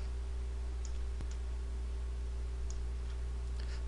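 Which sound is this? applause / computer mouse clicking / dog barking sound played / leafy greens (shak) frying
computer mouse clicking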